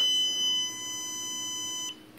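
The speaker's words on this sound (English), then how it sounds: "It does two warning beeps," A dog shock collar sounds its warning beeps: a piercing, sustained electronic tone that runs for about two seconds before stopping abruptly, heard up close with no voices.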